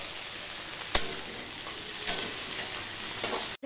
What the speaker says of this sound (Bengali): পেঁয়াজ আলু একসাথে আমি ভেজে নিচ্ছি